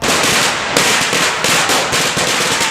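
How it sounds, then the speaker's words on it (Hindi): Dense, continuous crackle of firecrackers bursting outdoors on a road during a street celebration, loud rapid pops overlapping with no break. "लोग इतने ज्यादा खुश हैं कि रोड पे निकल के चिल्ला रहे हैं और साथ ही साथ पटाखे भी फोड़ रहे हैं।"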